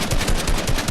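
Assault rifle fire in Fortnite: a rapid, loud burst of automatic shots in an even, rhythmic stream lasting about a second, with no talk over it.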